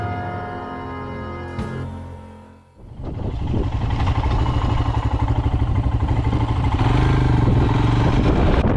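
A Royal Enfield Himalayan motorcycle idles with a low rumble, then the throttle opens fully and the engine roars loud and steady close to the microphone, with wind rushing as it speeds away.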